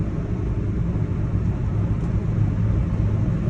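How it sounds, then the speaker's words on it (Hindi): Cabin noise of a 2024 Maruti Eeco CNG van cruising on a highway near 100 km/h with the air conditioning running, a loud steady low engine and road rumble without talk. "देखो आवाज़, आपको आवाज़ आ रही होगी इंजन की नॉइस।"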